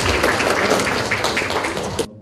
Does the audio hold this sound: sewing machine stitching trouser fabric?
no